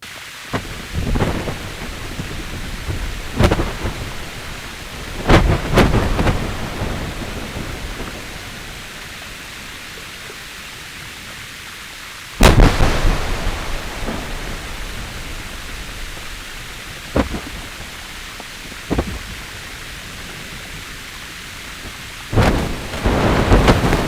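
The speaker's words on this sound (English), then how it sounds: "If you were to go right up to the front of a marine terminating glacier, it would sound something like this." Front of a marine-terminating glacier, calving ice recorded up close: a steady rushing hiss with sharp cracks and bangs scattered through, several loud pops standing out, all without voices.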